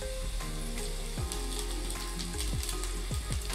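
Browned onions with ginger garlic paste and turmeric frying in a pan, a close steady sizzle with rhythmic scraping and clicking of a spoon stirring, no voices.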